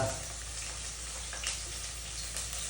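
Chopped onions and green chillies fry in hot oil in a pan for an egg dry dish, giving a continuous close sizzle with occasional light stirring scrapes.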